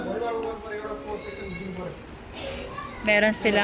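Children playing and calling out at a shallow kids pool in an Abu Dhabi swimming area, with high voices and splashy activity filling the background and a louder burst of kids' shouts near the end.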